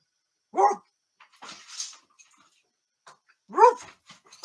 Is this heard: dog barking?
yes